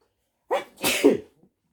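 A single close, loud human sneeze with a short sharp intake and a forceful burst, then silence.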